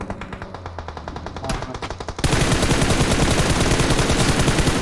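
Sustained rapid automatic gunfire in the battle royale game PUBG Mobile on the Erangel map, beginning sparse and building into a loud, dense, continuous burst of shots.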